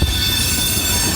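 Railroad cars roll steadily past a crossing near a rail yard, a continuous loud rumble of wheels on track with high metallic squealing throughout, no voices.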